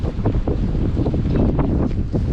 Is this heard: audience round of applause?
no